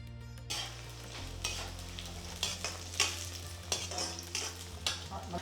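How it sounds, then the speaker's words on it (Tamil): Garlic and onion sautéing in oil for Chettinad vendhaya kulambu: a steady close sizzle with repeated scraping stirs of a utensil against the pan, the strokes coming in a loose regular rhythm, with no voices. "நல்லா எண்ணெயிலே வெள்ளைப்பூடு வெங்காயமும் அதுவே வதங்குறப்பே நல்லா வாசம் வந்துடும்"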